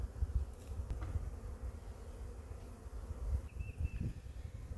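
A honeybee colony buzzes inside an opened hive, a dense, steady drone that holds close and even throughout with no voices.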